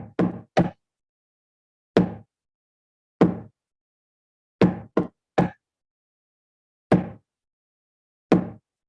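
A drum is struck in a fast-and-slow beginner pattern: sharp, close single hits and quick doubles spaced irregularly across several seconds, with silence between them.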